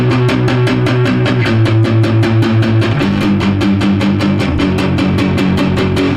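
Fast, tight palm-muted power chords strummed eight times per chord churn at a driving punk tempo, a continuous distorted chug shifting through a few chord changes.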